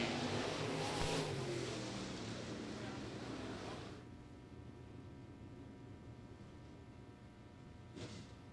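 Late model race cars of the American All-Star Series circle the dirt oval at Lake Cumberland Speedway during hot laps, a loud engine roar sweeping past early, then a steadier, more distant drone.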